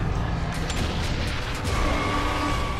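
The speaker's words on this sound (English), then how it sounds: "So you wanna shoot a little ahead of it, so the mortar hits it" Mortar rounds fire in the video game Gears of War 3, with a continuous roar of booming blasts and crackling gunfire layered densely over one another throughout.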